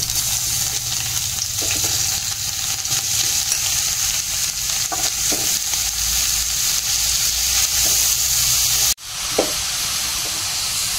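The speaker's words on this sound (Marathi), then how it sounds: "मंद आचेवर आपल्याला हे छान असं मिक्स करून घ्यायचंय तुपामध्ये।" Grated carrot for gajar halwa frying in homemade ghee and being stirred over a low flame, a steady close sizzle and hiss throughout, with a few soft spoon scrapes and a brief dip near the end.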